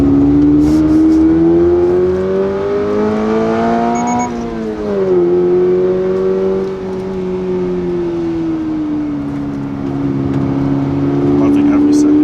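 Engine of a 2022 Subaru BRZ revving loudly and close, its tone climbing, dipping briefly, then holding a steady drone at higher revs for several seconds.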